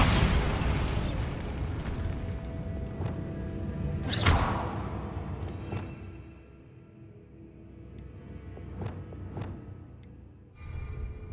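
A Bombarda spell goes off in Hogwarts Legacy, a booming blast with a rumbling tail, followed by fainter whooshes, pops and small debris sounds fading out.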